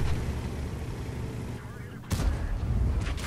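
Heavy tank cannon fire in World of Tanks with an M6E2A1 tank, booming shots and a sharp blast near the end over steady rumbling engine noise, with no talk heard.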